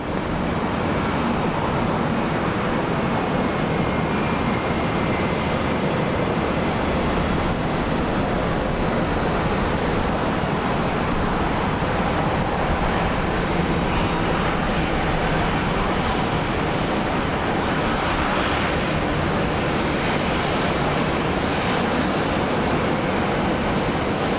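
A Qantas airliner lands on runway 19 left at Brisbane Airport, a loud continuous roar of jet engines and wind noise filling the whole stretch without pause, no voices present.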